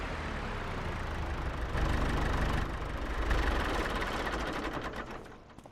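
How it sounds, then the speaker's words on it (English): Small tractor engine idling in Farming Simulator 25 on a small farm, a steady low rumbling drone that rises slightly twice midway and then fades near the end, heard without talk. "It's a nice little tractor."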